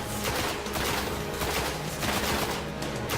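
Dense gunfire from a rifle in the shooter game Destiny, loud and continuous with fast repeated shots running through the whole stretch and little sign of clean gaps between bursts.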